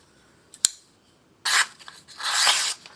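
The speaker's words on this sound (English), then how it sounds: "So very slicey through paper." A brief click, then two bursts of crisp rasping as a knife blade, a Benchmade Freek or Ritter RSK Mk1, cuts through paper, close and clear with quiet gaps between.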